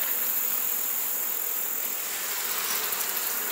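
Honeybees swarm over a hive frame while worker bees ball the queen, producing a dense, continuous buzzing hum that stays close and steady throughout with no voices.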